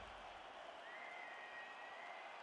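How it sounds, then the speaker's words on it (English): Crowd at a UFC event applauds after a round, a dense, steady wash of clapping and cheering heard quietly, as if from a distance. "So the crowd voicing its appreciation after that round."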